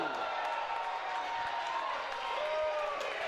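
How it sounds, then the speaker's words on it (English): Wrestling crowd at a Brian Cage versus Bryce Harrison match, a broad, sustained roar of cheering and scattered clapping filling the arena, with talking over it. "you can listen to the crowd"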